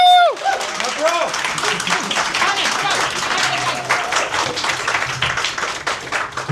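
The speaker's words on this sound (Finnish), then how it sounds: "Hän ansaitsee isot aplodit." A comedy club audience in Joensuu bursts into hearty applause for a stand-up performer, the clapping loud and continuous after a voice introduces him.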